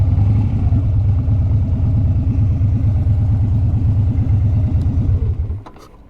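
A motorcycle engine running close by with a rapid throbbing idle-like pulse, loud and steady, then cutting off abruptly near the end as the bike is parked.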